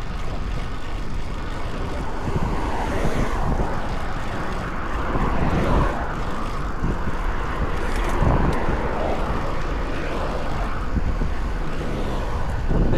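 Steady, loud wind rushes over a car driving the Gökbel mountain pass near Marmaris in late August, mixed with constant road and engine rumble.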